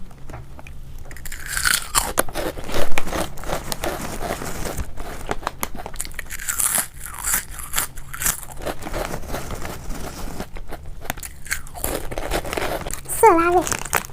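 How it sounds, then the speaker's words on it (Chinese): A crunchy shrimp-flavored Thai snack being bitten and chewed, with repeated close crunching and crinkling bursts across the clip and speech heard alongside. "尝一下这3款零食，这个是虾味的"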